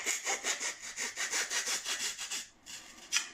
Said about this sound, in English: use the razor saw to cut a line neatly down there on the edge of the webbing